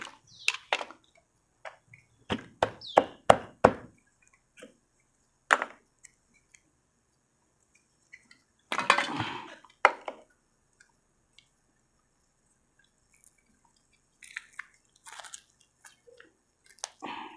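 An air conditioner capacitor, burnt and burst, is cut open by hand, giving a scatter of sharp crunching and chopping snaps, some in quick clusters and others isolated between quiet pauses.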